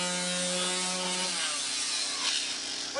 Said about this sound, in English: Sanding the Donkey Kong.